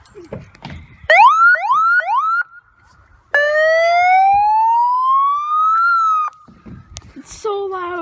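A loud police siren sounds close by, first in short rising yelp bursts, then in a long, slowly climbing wail, with a final shorter blast after a brief pause.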